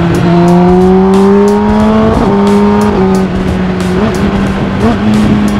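A car engine drives along in the morning, revving in clear rising tones and then dropping in pitch through several downshifts, loud and close with no talk.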